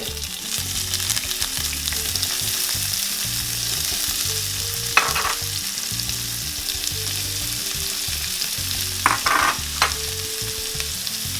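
Peppers frying in a pan for alcapurria filling, a loud continuous sizzle with steady stirring scrapes and a few sharp clicks of a utensil against the pan.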